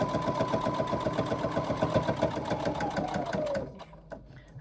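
A domestic sewing machine stitches a long handbag seam, running steadily and close with a fast mechanical chatter, then stops near the end, leaving a few faint clicks.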